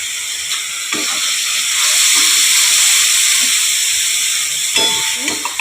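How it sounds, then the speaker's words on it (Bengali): Almond and cashew paste with a splash of water hits hot spices in a pan, giving a loud, steady steamy sizzle and hiss that swells in the middle, with a few scraping stirs. "আমন্ড আর কাজু বাটাটা আমি দিয়ে দিলাম, দিয়ে একটু জল দিয়ে দিলাম"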